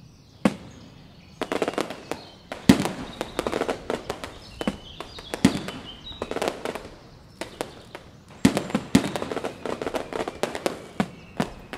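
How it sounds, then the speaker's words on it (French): Repeated fireworks bursts and crackles in the game Play Together, popping at irregular intervals, sharp and fairly loud, with no talking over them. "Allez, lancez les feux d'artifice."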